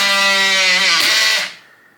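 A loud buzzing motor in a Kwikset SmartCode smart door lock whirs for about a second and a half as it locks, then cuts off abruptly, leaving a faint tone.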